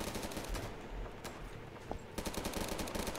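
Rapid automatic gunfire in the Roblox shooter Phantom Forces, quiet and somewhat distant bursts of shots rattling in quick succession, with a denser volley near the end.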